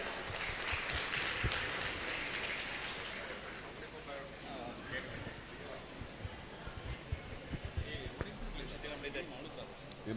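An audience at a student awards ceremony claps steadily to welcome an MLA to the podium, the applause dense at first and then thinning out, with voices heard over it.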